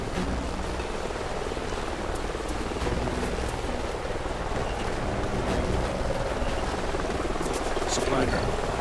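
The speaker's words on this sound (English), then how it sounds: "Sounds like a chopper's up ahead of us." A steady low rotor drone hums continuously under broadband rumble, like a helicopter passing nearby in Call of Duty: Ghosts, with faint clicks scattered over it.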